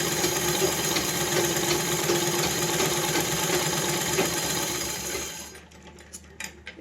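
A sewing machine runs steadily and loudly to wind thread onto a bobbin, a constant close whir for over five seconds that slows and stops, followed by a few light ticks.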